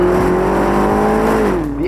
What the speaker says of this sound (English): the engine, that roar, the growl from the V8